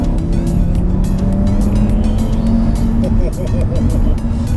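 An Audi RS3 with a 2.5-litre five-cylinder engine in dynamic mode pulls hard from inside the cabin, a steady, loud engine drone rising in pitch with a brief gear-change dip, while a voice talks over it.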